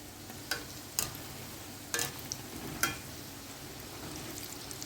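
Sweet dough balls fry in oil in a pan, a quiet continuous sizzle with four or five distinct scraping stir strokes in the first three seconds, then only the faint sizzle, with no voices.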